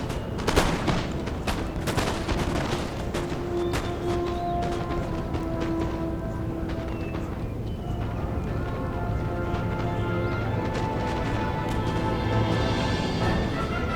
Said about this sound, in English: Fire that volley. Boom! It's absolute drenched in bullets.